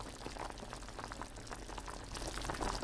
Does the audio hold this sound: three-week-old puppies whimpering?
no